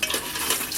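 Red chili and potatoes frying for mutton bhuna gosht, a continuous bright hiss of hot oil with a faint stirring scrape, close and fairly loud, alone without talk.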